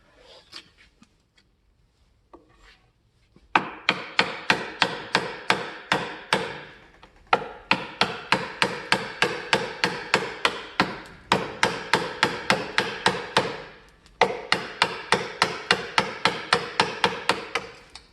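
Repeated hammer blows with a 500 g hammer on wood while shaping a bow saw, struck in fast steady bursts after a few light taps, close and loud with no talking.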